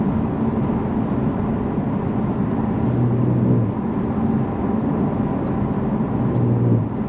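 A turbocharged 2023 Genesis G70 3.3T Sport Prestige accelerates, heard from inside the cabin as a steady, muted engine drone with road noise and no talking.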